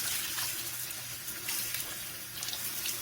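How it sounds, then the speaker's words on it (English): Sushi rice is rinsed in a bowl as water runs and splashes steadily, with a continuous close, moderately quiet wash of sound and small sloshing bursts. "So what you want to do is rinse it. Put more water in."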